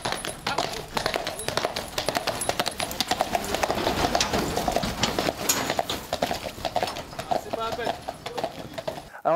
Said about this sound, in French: Alors là, le cheval, en fait, il prend l'élan